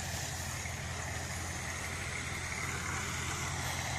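A tractor engine runs in a foggy village farm field, producing a steady low idling rumble that holds evenly at a moderate distance, fairly quiet with no voices.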